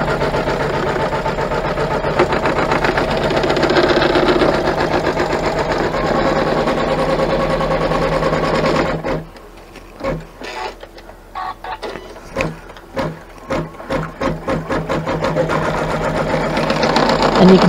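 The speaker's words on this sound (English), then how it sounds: "you can come through and stitch out the basting line just to make sure that everything's in" An embroidery machine stitches out a basting line on a block-of-the-month quilt piece: a steady, fast mechanical whirring for about nine seconds, then a run of short, separate stitching bursts, up close with no talking.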